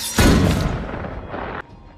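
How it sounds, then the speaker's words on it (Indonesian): A single loud gunshot in an action film lands as a sharp boom with a long rumbling tail that decays over about a second, followed by a smaller crack and a quieter background. "Dalam satu kali tembakan, Bill berhasil menembaknya."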